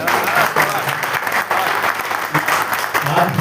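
Loud, sustained applause from a conference audience, steady clapping filling the whole stretch without a break.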